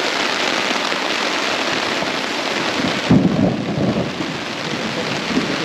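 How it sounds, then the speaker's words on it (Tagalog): Steady rain pours down on a hillside campsite in Magdalena, Laguna, a dense, even hiss that holds close and loud throughout, with a low rumble of thunder rising briefly near the middle. "Ulan na po. Inabot tayo ng ulan."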